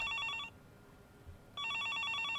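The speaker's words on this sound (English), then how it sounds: "The phone kept ringing, non-stop." In the Higurashi visual novel game, a phone's electronic trilling ring fades out, then after a second of quiet starts again, repeating steadily with no voices.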